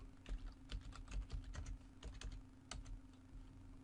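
Keys clatter on a computer keyboard in a quick, uneven burst of taps as a password is typed, close and fairly quiet, with no talking.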